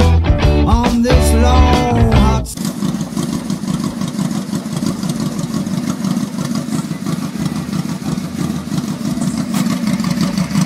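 A Yamaha Royal Star XVZ1300 cruiser motorcycle with slip-on exhaust rumbles at a steady, loud, close idle after a brief burst of music at the start.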